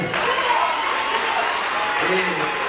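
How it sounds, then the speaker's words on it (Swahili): An audience at a Methodist choir launch ceremony breaks into sustained applause, dense, even clapping filling the room for several seconds, with a voice faintly rising beneath it near the end. "Makofi kwa shangazi yetu."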